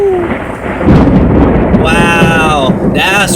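Thunder rumbles through a heavy rainstorm, a broad low roar that swells midway and holds under steady rain noise, while someone talks excitedly over it.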